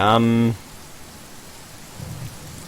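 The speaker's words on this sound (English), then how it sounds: "The storm is still raging." Steady rain from a storm in the survival video game The Forest, a broad hiss running throughout, with a harmonic music or voice-like tone over the first half second and a low rumble near the end suggesting thunder.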